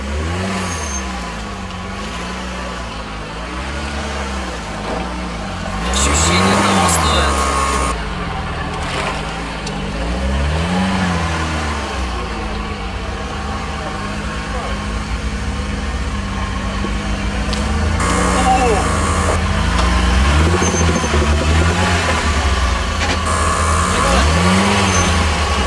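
A turbocharged Lada Niva on 33-inch tires crawls over rough off-road terrain, its engine revving up and down in repeated surges with loud, close growling over nearly half a minute.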